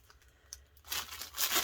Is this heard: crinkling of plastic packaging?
yes